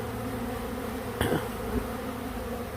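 Honeybees from a neighboring hive robbing another colony, a steady close insect drone of many wings with one brief louder buzz as a bee passes near.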